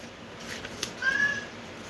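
A house cat gives a single short meow at close range in a quiet room, with a brief rustle just before it.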